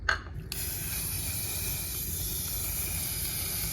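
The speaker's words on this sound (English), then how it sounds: "Gonna spray that until I get a nice even coat" A short burst starts the clip, then a can of spray primer hisses in one continuous, even stream over a 3D-printed part.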